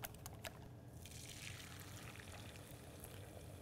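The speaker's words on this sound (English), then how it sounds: "That's a nice little sizzle there." Egg mixture for a frittata sizzles steadily in a hot oiled skillet on medium-high heat, a close, even crackle that holds at a moderate level throughout with no talking.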